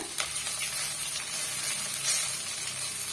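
Ginger, garlic, onion and curry leaves sauté in hot oil in a pan for a salna gravy, giving a steady close sizzle with faint stirring scrapes and no talk.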